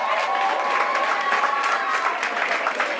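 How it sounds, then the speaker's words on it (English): Applause from the audience at the Kellits Primary School graduation as the school choir makes its way in, a steady, dense wash of clapping that holds at an even level for the whole stretch with no break. "All right, clap them as they come."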